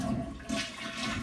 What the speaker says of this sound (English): And I'm going to flush.